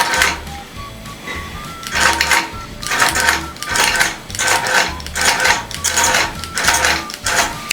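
A sewing machine runs a long basting stitch through a quilt in short, rhythmic bursts of rapid mechanical clatter, stopping and starting about every half second, close and fairly loud.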